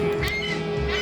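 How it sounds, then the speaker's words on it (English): Birds call noisily outdoors at a theme park in Orlando, a few harsh, duck- or crow-like cries sounding over steady background ambience with no talking. "Oh, look at the birds."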